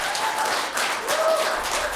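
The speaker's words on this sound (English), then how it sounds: "Let's go ahead and give our panelists a big round of applause." A crowd applauds steadily for a panel at an education event, a dense wash of clapping that holds at an even level throughout.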